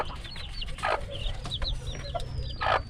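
Chicks peeping in high, rising chirps close by while chickens cluck in short, louder bursts, over a low background rumble.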